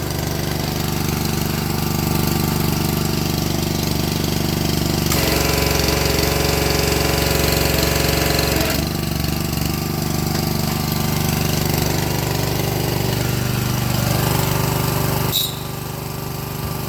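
A small gas engine on a secondhand machine bought cheaply fires up and runs steadily, a loud continuous knocking chug that shifts pitch briefly mid-run before settling back to a rough idle.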